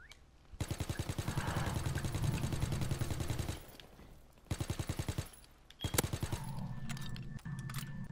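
Rapid automatic gunfire in Call of Duty WW2 prop hunt, loud machine-gun bursts of evenly spaced shots, several separate volleys with short gaps and a trailing rumble.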